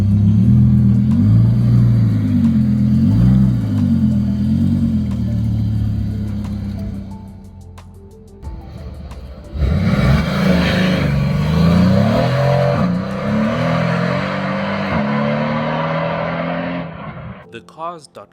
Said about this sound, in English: that idle rumble from the V10 is pure theatre